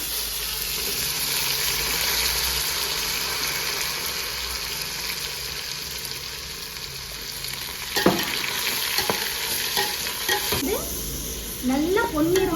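Onion and cinnamon frying in oil in a pan for prawn biryani, a steady hissing sizzle up close, joined later by a few scraping stirs and clinks of a spoon.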